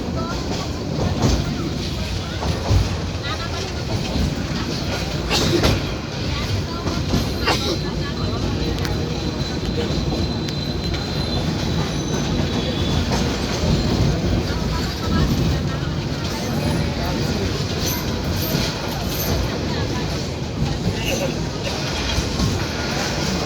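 A Jamuna commuter intercity train running on the rails near Dhaka's Bimanbandar station, a continuous rumbling roll with faint rhythmic clatter heard from inside, with people talking over it.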